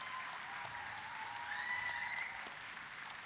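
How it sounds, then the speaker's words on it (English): Steady applause from an audience at a football awards celebration fills the whole stretch, a dense even patter of many hands clapping at moderate volume, with no voices over it. "Round of applause again for Franca."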